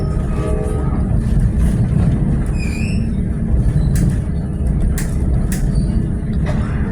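A scenic railway train rolls through the Jim Thorpe rail yard by the Lehigh River, a steady loud low rumble of wheels and carriage throughout, with brief higher squeals and clanks over it.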